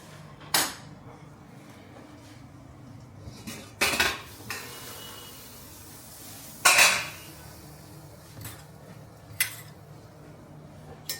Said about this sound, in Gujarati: હવે હું આને ઢાંકી દઈશ.